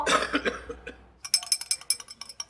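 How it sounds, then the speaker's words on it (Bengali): An older man coughs a few times in a harsh burst at a domestic scene, followed by a run of light clicking and clinking sounds, all fairly quiet. "লবণ গরম পানিতে এই কাশি কমবো না বৌমা"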